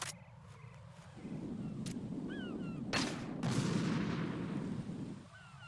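Grenade launcher firing in Metal Gear Solid 2, heard as a sharp shot followed by a rumbling blast and a second loud burst with a long decaying roar, with faint chirping tones in between and no speech.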